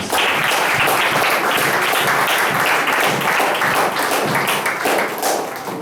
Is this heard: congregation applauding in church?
yes